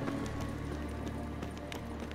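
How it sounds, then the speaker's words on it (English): A summoned horse galloping in the video game The Witcher 3, a brisk rhythmic clip-clop of hooves at moderate distance over a steady ambient wash, no voices. "Oops, I called my horse accidentally."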